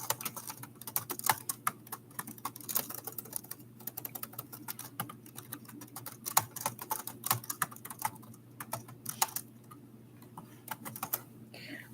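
Computer keyboard typing, a steady run of quick key clicks with brief pauses, fairly close over a low background hum.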